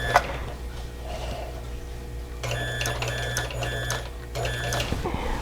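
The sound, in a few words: quilting sewing machine stitching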